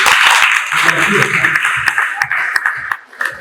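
An audience breaks into loud applause at a gathering in Nairobi, then the clapping thins to a few scattered claps while voices carry on beneath it.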